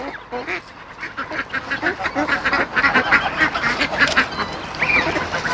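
Geese honk and quack in a dense, noisy poultry flock, calls overlapping continuously at close range.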